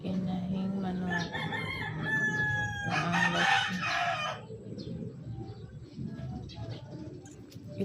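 A backyard rooster crows once, loud and fairly close, its harsh call rising then trailing off over a murky outdoor background with faint other bird sounds under overcast skies.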